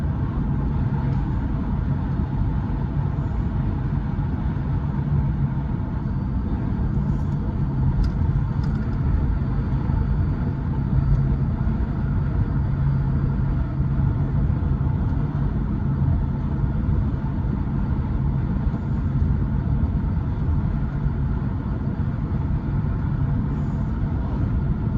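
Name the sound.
car driving down the road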